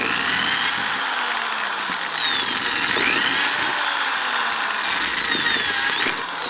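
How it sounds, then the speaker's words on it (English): A power drill bores small drainage holes into the bottom of a container, its high motor whine rising and falling in pitch across repeated bursts, loud and close. "it drills real easily."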